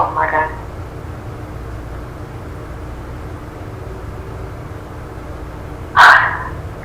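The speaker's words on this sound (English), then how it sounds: "dog." A dog barks twice, one burst at the start and another louder one near the end, separated by a long stretch of low background hum.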